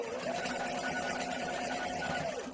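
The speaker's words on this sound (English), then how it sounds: "So I'm just going to stitch it really quickly over here." A sewing machine runs in one steady burst of stitching across quilt pieces, a continuous close hum with a high whine that winds down at the end.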